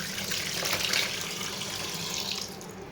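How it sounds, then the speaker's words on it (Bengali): Running tap water splashing over fish as it is rinsed in a sink, a steady close hiss of flowing water with slight shifts as the fish moves under the stream. "মাছটাকে আমি এখন আবার ধুয়ে নিচ্ছি"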